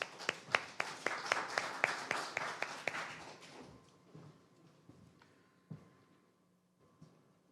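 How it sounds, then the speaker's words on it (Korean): An audience at a youth forum in Ulsan claps to welcome a speaker to the stage, a sharp, brisk round of applause that quickly thins out into a few scattered claps and quiet room noise. "여러분 큰 박수로 맞이해 주십시오."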